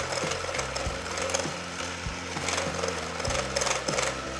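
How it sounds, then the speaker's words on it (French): Six egg yolks being whisked with 150 g of sugar toward the ribbon stage for a fraisier sponge; a steady, close scraping and clattering of the whisk against the bowl with rapid repeated strokes, no voices. "On fouette bien pour avoir un ruban."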